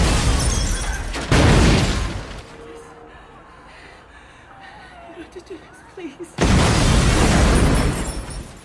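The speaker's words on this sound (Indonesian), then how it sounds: "Ledakan besar yang dipicu oleh kelompok tak dikenal menghancurkan sebagian bangunan" A large explosion rips apart a supermarket building in an action film: two loud, booming blasts, each with a broad roar of debris, separated by a quieter stretch of low rumble and scattered crackles.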